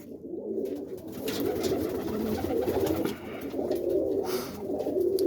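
Boston roller pigeons cooing in a loft, repeated soft rolling coos close by and fairly loud, with no talk.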